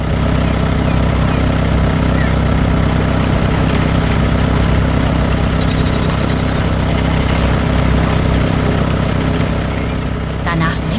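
Steady engine drone of a red tractor hauling giant pumpkins in a farm animation, a continuous loud mechanical hum with low throb running the whole time under a narrating voice.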